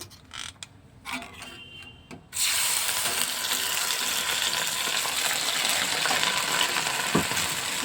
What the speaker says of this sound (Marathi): आता आपण ह्याच्यामध्ये ये दुधाचं आणि रवा टाकून देऊ